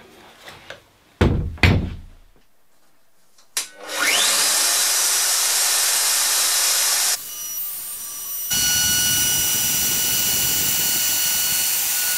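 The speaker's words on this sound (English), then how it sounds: "After routing all the edges" A few sharp knocks, then a loud, steady high-pitched whine of a router cutting plywood shelf edges close up, shifting tone as it cuts.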